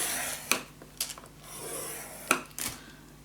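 A scoring tool scrapes along paper for a handmade gatefold mini album, giving short rasping strokes with a few sharp taps, close and alone.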